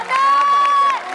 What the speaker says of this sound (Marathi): जोरदार टाळ्या एकदा, परत एकदा प्लीज.